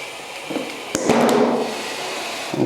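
A cold-sprayed can of beer being chilled bursts with a sudden sharp crack, followed by a brief cluster of pops and a fizzing hiss that trails off.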